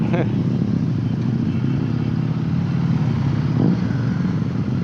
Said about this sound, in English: I like the sound of that exhaust.